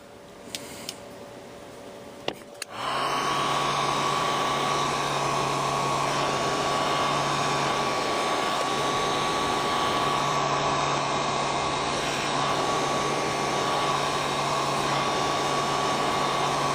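A heat gun switches on with a click after a few quiet ticks and then blows a loud, steady whirring roar close by, heating a stuck volume control on an old Philco radio.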